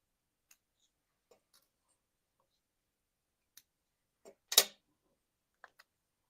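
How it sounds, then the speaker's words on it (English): A craft stick is cut during a small crafting session, a single sharp snip that stands out clearly from a few faint, scattered clicks and taps in an otherwise quiet room. "We have our final stick. I will cut it."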